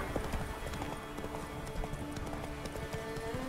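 Horse hooves in The Witcher 3: Wild Hunt clip-clop in a steady rhythmic trot, close and continuous over a soft game ambience.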